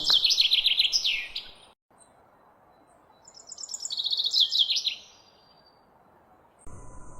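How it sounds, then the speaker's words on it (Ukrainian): Spring birds sing clear, bright chirping phrases in two bursts separated by a quiet gap, fairly close and alone over a soft background hiss. "А які чисті голоси в пташок."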